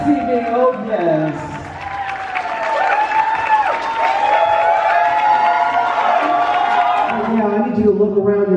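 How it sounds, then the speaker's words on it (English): Sustained applause and cheering from wedding reception guests in a hall, a dense, loud wash of clapping that builds and holds, with a DJ talking over the crowd. "How about a big round of applause for your newlyweds this evening?"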